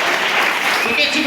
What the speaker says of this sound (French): Nous acclamons pour le roi des rois.